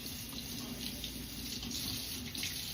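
Tap water running steadily into a sink during handwashing after handling raw food, a continuous close hiss and splash with no voices.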